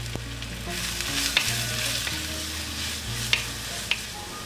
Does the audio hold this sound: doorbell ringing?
no